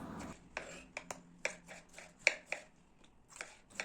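Knife chopping tomatoes into large pieces for a winter breakfast sauce, a dozen or so crisp, irregular cuts against a board, close and fairly quiet, with brief talk at the start.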